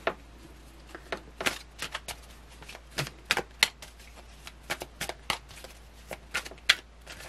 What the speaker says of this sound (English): I have to look up when I'm shuffling these cards because I just do.